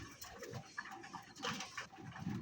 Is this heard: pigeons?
yes